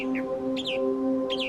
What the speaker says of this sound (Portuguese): O sabiá das Bahamas canta melodicamente em galhos altos, muito diferente dos pássaros locais.